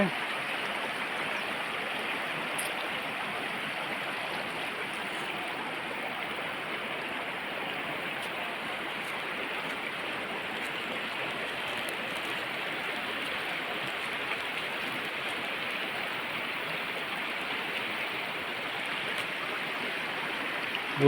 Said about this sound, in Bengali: এই প্রান্ত দিয়ে নদীটা বয়ে গেছে।